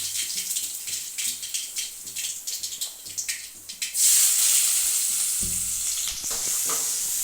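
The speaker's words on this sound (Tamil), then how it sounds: "ரெண்டுலேயும் வெங்காயம் போட்டுக்கலாம்" Onions dropped into hot oil with mustard seeds and cumin set off a loud, sudden sizzle that holds steady after earlier crackling and spoon scrapes, close and without talk.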